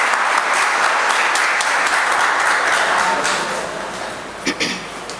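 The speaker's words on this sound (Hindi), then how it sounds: "ज़ोरदार तालियों से इस्तकबाल कीजिए" An audience at a poetry mushaira gives sustained, loud applause welcoming a poet to the stage, a dense wash of clapping that slowly fades toward the end.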